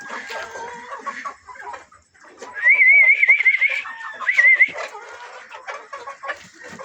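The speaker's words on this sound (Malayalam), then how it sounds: "അപ്പോൾ ഇതിലൊരു 60ഓളം പൂവൻകോഴികൾ ഇതിൽ കിടപ്പുണ്ട്." Roosters on a farm holding about sixty birds call out, a couple of shrill crows rising over a background of clucking and scattered fowl noise.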